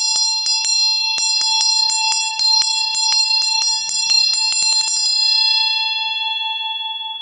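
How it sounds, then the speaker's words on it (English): Ritual bell rung during a Tibetan Buddhist Guru Puja by moving only the fingers; a fast run of bright, evenly spaced metallic strikes for about five seconds, then a long ringing tone that slowly fades, loud and alone. "When you play the bell, basically, you're supposed only to move actually the fingers."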